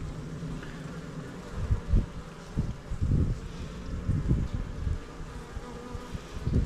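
Honeybees buzz around a full honeycomb frame lifted from an Apidea mating box, a continuous close drone with wind and handling bumps mixed in, no voices.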